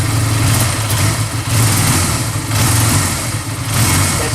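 A motorcycle engine idling close by, its steady mid-pitched drone lifted by three short throttle blips at regular intervals, loud and with no talking.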